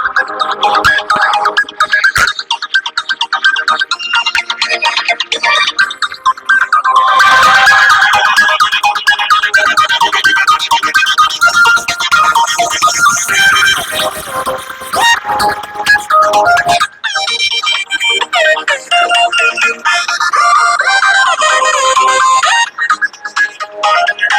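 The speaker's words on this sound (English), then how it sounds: "So I will play one more song if you want, just to see how the speaker quality is." A song plays through the stereo speakers of a Moto G Play 2024 phone, loud and bright with a thin low end, the music running continuously with shifts between sections and no talk over it.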